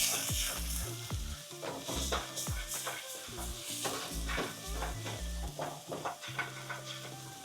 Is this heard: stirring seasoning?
yes